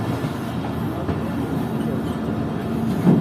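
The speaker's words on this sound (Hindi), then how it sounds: "तो अब ट्रेन हमारी पहुंच रही है बोस्तान रेलवे स्टेशन पर" A passenger train pulls into Bostan Junction railway station, a continuous low rumble with soft rolling wheel noise and a faint clatter, steady and moderately loud with no voices.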